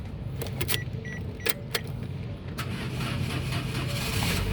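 A 2016 Toyota Calya 1.2 G manual is started up close by: a few sharp clicks come first, then the engine catches and settles into a steady, even idle hum. No one speaks.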